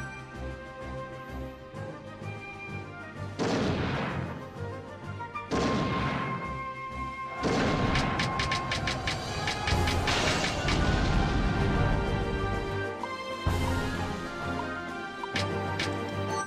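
A castle gate being battered and destroyed during a siege in Dynasty Tactics, a series of heavy crashing impacts and booms over a steady musical backdrop, each strike loud and followed by rumbling debris.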